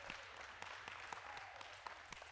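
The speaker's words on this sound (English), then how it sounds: "Let's give them a hand clap." Faint audience applause at a church service talk, a steady wash of clapping with a few sharper individual claps, heard from a distance and fairly quiet throughout.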